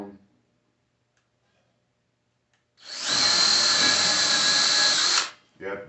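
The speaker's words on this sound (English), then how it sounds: "You have to be very careful you don't move the legs while you're drilling the holes" A power drill bores holes through a center-punched mark, one steady whine lasting about two seconds, loud and close, with brief faint voices before and after.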